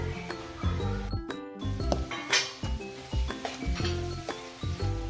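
Spice powder being stirred into squid in a pan, with a spoon scraping and clinking against the metal over a steady sizzle, close and continuous with brief pauses.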